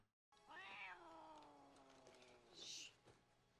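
A cat in a movie scene gives a drawn-out, falling meow followed by a short higher cry, fairly clear over a quiet background, ending with a sudden loud click.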